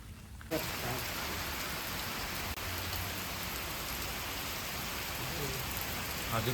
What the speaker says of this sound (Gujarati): વરસાદ વધવા માંડ્યો છે.